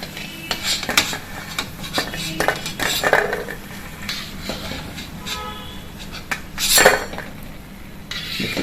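Metal utensils clink and scrape against a pot or pan as fried vadas for kanji vada are lifted out of hot oil and drained against the edge, in irregular close clatters with one louder scrape near the end.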